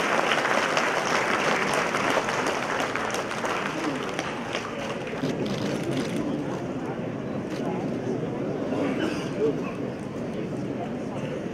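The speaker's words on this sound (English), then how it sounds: "ನಿಮ್ಮ ಚಪ್ಪಾಳೆ ಮಾತ್ರ ಶುಭವನ್ನು ಕೋರುವಂತಹ ಚಪ್ಪಾಳೆ" A large crowd at a Karnataka government event claps for the Chief Minister, a dense, sustained roar of applause that holds steady throughout, with voices mixed in.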